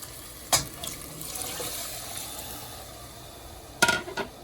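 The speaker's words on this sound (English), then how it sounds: "So I'm gonna add the water to cook it now." Water poured into a pot of fried curry turkey neck on a home stove for Jamaican Sunday dinner, heard as two short splashing bursts, near and moderately loud, with quiet pauses between.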